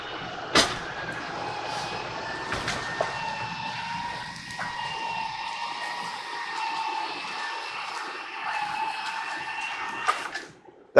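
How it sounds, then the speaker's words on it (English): A motorized awning on a 2015 Jayco Eagle 30-5 BHLT bunkhouse fifth wheel extends with a steady, continuous motor whine that holds for about ten seconds, bracketed by a few sharp clicks and knocks at the start and finish. "We're going to push the awning button. We're going to extend the awning out."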